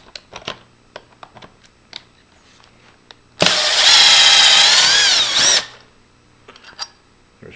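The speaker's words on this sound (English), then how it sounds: "we're going to remove this top and bottom screw" A cordless power drill backs out the top and bottom screws of a Grade 2 storeroom-function door knob, one loud continuous whir of about two seconds, close up, with light handling clicks before and after.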